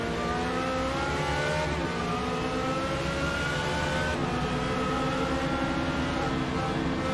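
An LMP2 prototype race car at Daytona in Forza Motorsport online multiplayer holds a loud, continuous engine drone with slowly shifting pitch as it eases through a corner.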